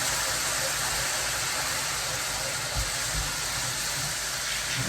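Water poured into a hot pan of gravy sizzles as a steady broad hiss with faint low bubbling, close and continuous throughout.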